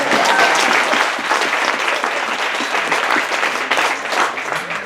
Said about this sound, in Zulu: nishayele ubaba nomama Magwaza ihlombe